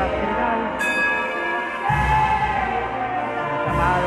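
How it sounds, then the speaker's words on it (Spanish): A parish church bell rings at the close of a procession for the Virgen de la Nube, with several ringing strokes spaced a second or two apart, each sustaining over a continuous background. "empezamos ya la campana final"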